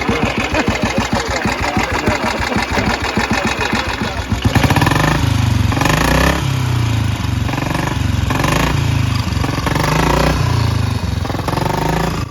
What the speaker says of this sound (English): Now just let the engine warm up a little bit, and then Tom's going to have a little potte